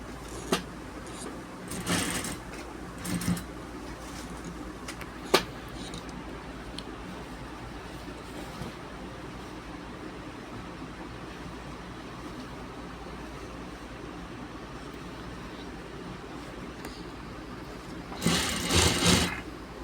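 A sewing machine stitches a gents shirt in bursts of close, rapid mechanical whirring separated by quieter pauses with small clicks, ending in a loud final run; no voices are heard.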